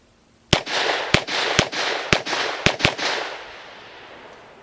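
Six sharp 9mm shots from a Grand Power Stribog fired with the brace fully collapsed, coming in an uneven quick series over about two and a half seconds, each loud crack trailing into a rolling outdoor echo that fades away.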